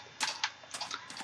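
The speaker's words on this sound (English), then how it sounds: "But no, it's just paper rubbing against." Paper rubs against a microphone in short, rapid scratchy bursts, a close, dry rustle with several quick brushes separated by brief gaps.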